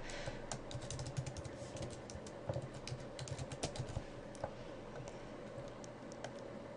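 A computer keyboard being typed on steadily, with quick irregular keystrokes and brief pauses, close and fairly quiet with no voices.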